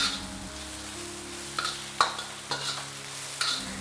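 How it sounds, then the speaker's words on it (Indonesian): Chopped cabbage stir-fried in a steel wok, a soft steady sizzle with a few scrapes and clanks of a utensil against the pan at irregular intervals, no talk. "Kemudian kita tumis sampai kolnya ini layu ya."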